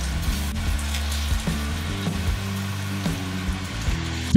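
Hamburger steaks sizzle in hot oil in a deep 7.6 cm pan, a steady close frying hiss with faint crackles running evenly over a low background hum.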